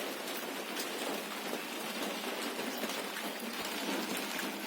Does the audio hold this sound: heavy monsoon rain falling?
yes